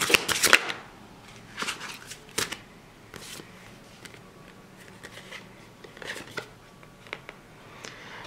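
Glossy tarot cards are shuffled by hand in a few short riffling bursts, the loudest at the start, separated by quieter rustles and soft handling noises, close up with no talk.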